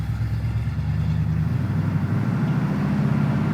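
A 1980 Camaro Z28 muscle car with Edelbrock upgrades rumbles at low speed around the block, its engine giving a steady, deep, fairly loud drone.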